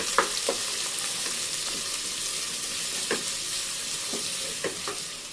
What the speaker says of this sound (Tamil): வெங்காயம் போட்டு வதக்கணும்.